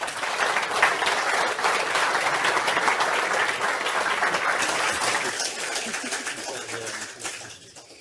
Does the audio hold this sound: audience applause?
yes